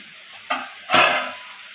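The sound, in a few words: stirring and frying spices with turmeric in a pan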